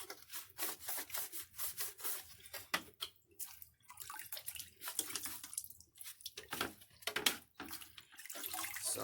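Running water splashes and hisses while a canister filter is rubbed and scrubbed under it, with uneven bursts of close, fairly quiet scraping and spattering.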